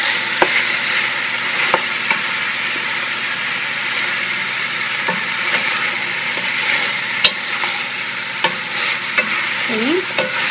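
Large chunks of onion sizzle steadily in a pan of sauce for carne guisada, a loud continuous frying hiss with occasional stirring clicks and scrapes.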